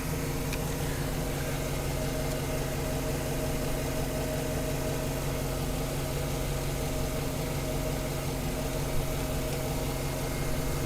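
A 2009 Chevrolet Silverado engine idles smoothly after new spark plugs and wires, a steady, even mid-range hum that continues without a break and carries no voices.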